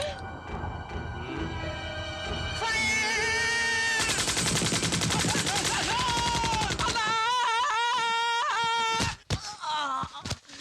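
Machine gun fire in a scene from the Malayalam comedy film Meesa Madhavan: loud, rapid bursts of shots tangled with music and clatter, followed by a few sharp knocks, with voices shouting over it.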